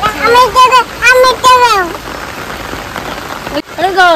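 A heavy downpour of rain hisses steadily throughout, while voices talk and call out loudly over it in the first half and again at the end.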